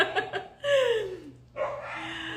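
Dogs give a few quick yips, then two louder drawn-out barks or howls, close and fairly loud against a quiet background.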